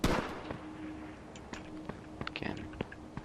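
Sharp, faint gunshots from the video game H1Z1 crack out irregularly, a few isolated shots followed by a quicker cluster, distant and low in level against a soft background hiss.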